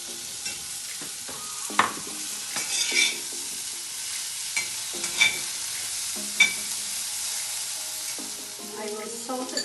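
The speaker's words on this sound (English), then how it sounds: "Stir that around a little bit." Chickpeas and potatoes stirred in a pot of Kerala-style vegetable stew with pumpkin, a close frying sizzle under repeated scraping and clinking strokes of a spoon, no talking.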